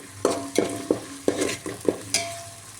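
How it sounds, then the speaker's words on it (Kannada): Garlic paste sizzles in oil while chicken biryani is being cooked, with about seven sharp, evenly spaced stirring scrapes from a spatula over a continuous close frying hiss. "ಹಾಕ್ಬಿಟ್ಟು ಸ್ವಲ್ಪ ಮಿಕ್ಸ್ ಮಾಡ್ಕೊತಾ ಇದ್ದೀನಿ"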